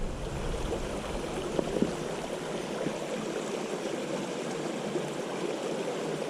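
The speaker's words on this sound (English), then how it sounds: "I don't know why I'm fascinated with the mountain streams." A mountain stream along a hiking trail flows in a steady, soft broadband rush, fairly quiet and constant with a couple of brief splashes, no voices.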